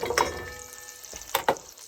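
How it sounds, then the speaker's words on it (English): Chicken cooks in butter in a pan inside a camper van, giving a soft, low sizzle broken by a few sharp spatters and utensil scrapes. "I've never cooked chicken with butter before, but that's what the recipe calls for."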